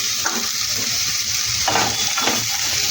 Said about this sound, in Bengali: তারপর এটাকে আমি নেড়ে চেড়ে মজাবো